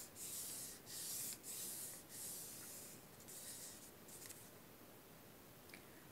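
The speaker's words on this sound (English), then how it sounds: "Make a nice crease." Origami paper being folded in half and its crease rubbed down by hand, a soft, close, repeated brushing that comes in strokes for the first few seconds, then fades to quieter rubbing.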